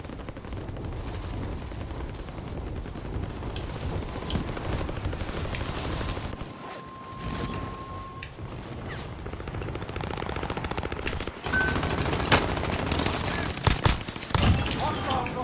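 Near-constant rapid gunfire rattles through a Call of Duty: Warzone match, loud bursts of automatic shots layered with explosions, easing briefly in the middle before picking up harder again.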